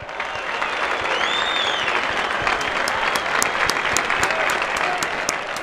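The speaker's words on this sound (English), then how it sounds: "Claps all around. Everybody cheer." Steady, loud crowd applause and cheering from a Madden football video game after a first win of the season, with dense clapping and a few whistles throughout and no voices on top.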